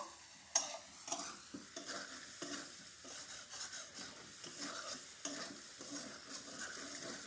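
Masala with black pepper powder sautéing in a pan for garlic chicken liver roast, a steady sizzle of frying punctuated by repeated scraping stirs of a spoon against the pan, with no talking.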